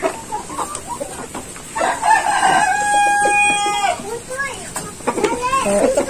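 Black Australorp chickens cluck and one rooster crows loudly and close in a breeder house, with a long drawn-out crow in the middle and scattered clucking before and after, while a person talks throughout.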